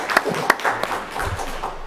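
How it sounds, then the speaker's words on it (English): Scattered clapping from a small audience at a town board meeting, a few sharp claps standing out before it thins into lighter, uneven applause. "I just think that deserves another round of applause."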